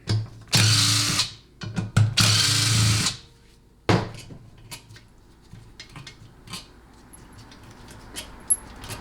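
Transmission bolts coming out during a 6L80 automatic gearbox teardown, two loud bursts of a power tool whirring, then faint clinks and small metallic handling sounds, no voices.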